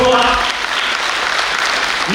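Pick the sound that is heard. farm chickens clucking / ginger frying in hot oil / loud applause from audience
loud applause from audience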